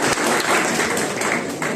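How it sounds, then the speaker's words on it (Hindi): Students at a Teacher's Day gathering applauding loudly, a brief dense wash of clapping from a large crowd. "तो अपने लिए जोरदार तालियां हो जाए।"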